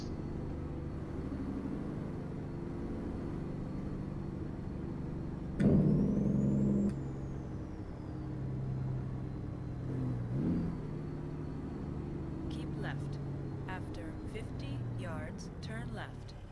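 A C-15 Caterpillar diesel in a 1250-horsepower truck with an 18-speed transmission, driven in American Truck Simulator, drones at a low steady idle. It briefly swells louder for about a second, then settles back, with a voice talking over it.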